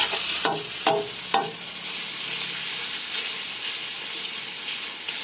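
Minced pork stir-fried in a pan with garlic and oil: three sharp spatula scrapes and clinks open, followed by a steady, moderately loud sizzle continuing alone.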